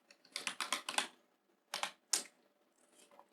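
Fingers tap out a short run of quick keystrokes on a computer keyboard while writing Python code, then pause before two more isolated key presses, crisp and close in a quiet room.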